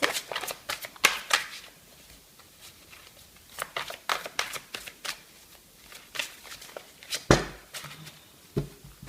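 Oracle cards shuffled by hand in a quick papery riffle, with sharp slaps and flicks in bursts and a couple of louder snaps as cards are drawn and set down, close up and with no voice.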